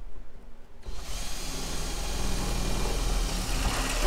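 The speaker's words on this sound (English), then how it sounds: "I'll drill the rest of the holes" A power drill with a 7/32 bit bores holes into a Jeep TJ hood, a close, loud, steady whir that starts abruptly and grows in intensity as the bit cuts through the metal.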